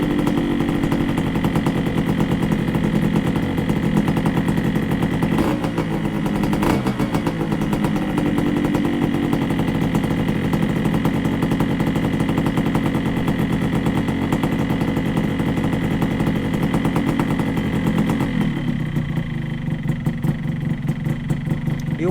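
A motorcycle engine idles steadily while stationary, a continuous loud exhaust drone with a low, even rumble that holds for the whole stretch and eases slightly toward the end.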